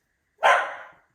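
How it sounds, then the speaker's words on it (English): One loud, close dog bark, short and sharp, standing alone against silence. "Sorry about my dog."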